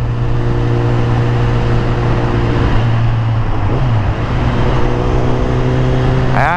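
Kawasaki Z1000 motorcycle fitted with a quickshifter and reflashed ECU, its engine droning steadily and loudly up close at high RPM, the pitch holding, dipping briefly midway and then rising again, with traffic around.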